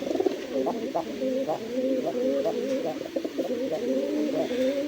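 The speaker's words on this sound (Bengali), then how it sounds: "মানে ঘুম ঘুম ঘুম ঘুম করে ডাকে, দেখছেন ডাকের স্টাইলটা কি" A Raj Golla pigeon with a pot-shaped throat coos close by in a steady, rolling series of low, repeated notes that run unbroken from start to finish, with no talking over them.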